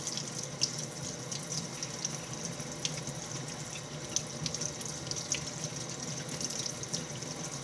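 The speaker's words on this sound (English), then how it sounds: "I just give it a quick rinse under the water." Tap water runs steadily into a sink as ginger is rinsed under the stream, a continuous close splashing with small spattering accents.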